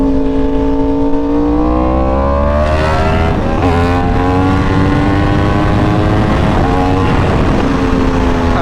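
A Yamaha R1 sport bike pulls hard on a highway, its engine note climbing loud and close through the gears with brief dips at shifts, wind roar underneath and no talking.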